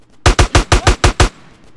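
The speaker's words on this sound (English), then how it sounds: "Get some suppressing fire in there!" Gunfire from a weapon in Grand Theft Auto: San Andreas during a gang fight: seven sharp, evenly spaced shots in a quick burst, loud and close, then a fading tail.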